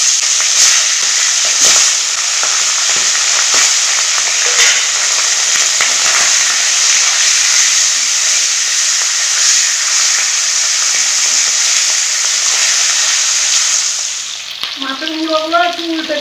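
Fish heads rubbed with turmeric and salt frying in hot oil, a loud, steady, broadband sizzle that runs continuously before dropping off near the end as a voice begins.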